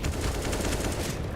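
Counter-Strike gunfire in a professional esports match, a quick burst of rapid, evenly spaced rifle shots crackling close and loud for just over a second.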